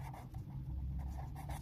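Faint scratching of handwriting, a pen moving steadily across paper in short strokes, soft and close under a low background hum.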